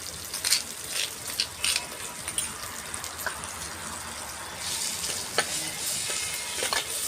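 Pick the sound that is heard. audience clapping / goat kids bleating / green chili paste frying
green chili paste frying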